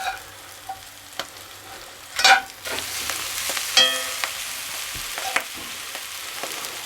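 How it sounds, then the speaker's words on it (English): Brussels sprouts and bacon frying in a pan, a steady soft sizzle with occasional stirring clatters and scrapes, close and moderately quiet, with no talking. "Cook for a few more minutes until you get the Brussels sprouts as brown as you want it."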